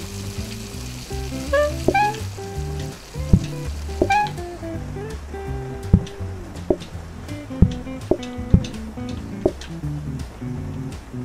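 Steak sizzles and fries on a grill in the cooking game PlateUp, a steady soft crackle under light game music, punctuated by short clicks and sharp chimes.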